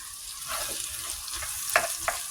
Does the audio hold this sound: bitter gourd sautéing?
yes